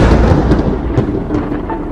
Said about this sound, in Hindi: तभी जोरदार बिजली कड़कती है